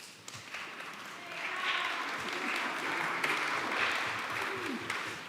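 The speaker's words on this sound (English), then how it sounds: "Get the applause over with now." Congregation applause at a Lutheran synod gathering in a church, a soft, diffuse patter of many hands that builds after a quiet start and holds steady, fairly distant, with faint voices underneath.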